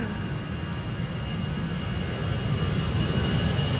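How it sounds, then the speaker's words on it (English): An Aer Lingus A320 jet departing Amsterdam Schiphol for Dublin, a broad steady engine roar that swells slightly louder toward the end, heard from nearby. "Aer Lingus flight 603 to Dublin,"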